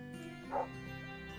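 A dog yips and whimpers in the Erannorth Reborn video game, one short bark-like burst over a steady low game soundscape.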